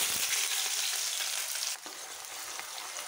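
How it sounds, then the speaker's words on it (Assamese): Onions frying in hot oil for a mutton karahi, a steady close hiss and sizzle with a brief stir-like shift partway through, settling into a slightly softer continuous crackle. "পিঁয়াজখিনি অলপ ৰঙচুৱালৈকে ভাজিব লাগিব।"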